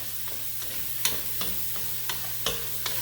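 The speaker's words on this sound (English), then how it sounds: "and we're going to stir this around" Onions and celery being stirred in a hot pot, a series of distinct scrapes and clinks every half second or so over a low steady sizzle and background hum, with no talking.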